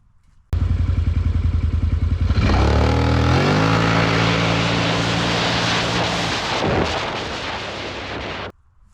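A Renegade 1000 ATV launches hard in a drag run, its engine roaring loud and close with a sharp rising rev, gear changes and a rough, crackling exhaust that holds for several seconds before cutting off abruptly.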